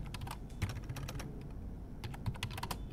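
Keystrokes on a computer keyboard come in quick, irregular bursts with a short pause in the middle, close up and fairly quiet, as a command is typed on a Windows Server 2022 machine.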